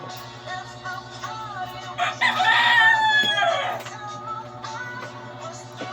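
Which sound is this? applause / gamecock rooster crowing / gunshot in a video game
gamecock rooster crowing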